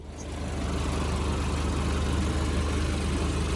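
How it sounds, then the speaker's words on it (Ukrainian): A 2008 Mercedes B200 Turbo engine idles steadily and evenly, a low continuous rumble with no changes in pace, close and moderately loud throughout. "Бачите, двигун працює чудово, тихесенько, рівномірно, жодні ролики нічого не скрипить."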